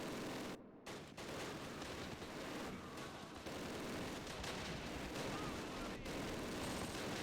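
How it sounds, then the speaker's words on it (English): In the World War II video game Close Combat: The Longest Day, at Pegasus Bridge, mortar and gunfire rumble as a continuous dense battle roar with a brief dropout near the start. "let's start smacking off mortar fire"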